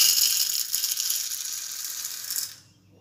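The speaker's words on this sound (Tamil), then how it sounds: "இப்போ அடுத்த ஒரு பவுலில் 1/2 கப் கடலைப்பருப்பு 50 கிராம் அளவு எடுத்துருக்கங்க. இப்போ இதில் சேர்த்துக்கலாம்." Dry chana dal, half a cup or about 50 grams, pours into a bowl as a continuous bright rattling hiss of small hard lentils, steady for over two seconds before stopping abruptly.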